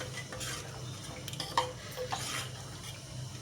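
Tamarind and flour batter for coconut charu is stirred in a pot, making soft scraping and swishing with a few light clinks, steady and close, with no voices.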